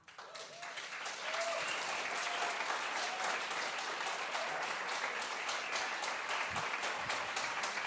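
Audience at the Plattsounds live music finale applauds a newly called act: dense clapping swells in after a second and holds steady, with light crowd noise and a brief low voice beneath.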